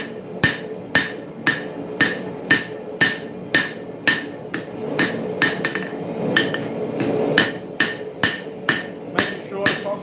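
A hammer forges the bevels of a steel dagger at an anvil, sharp ringing blows falling in a steady, evenly spaced rhythm, close and distinct over a faint background rumble.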